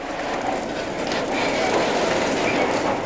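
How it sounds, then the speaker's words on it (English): Railway special train carrying 50 wagons of water arrives in drought-hit Latur, a steady rolling rumble with clanking, ratchet-like mechanical rattles sustained at even loudness throughout, no voices. "Railway special train Jal was deployed to send 50 wagons of water every day"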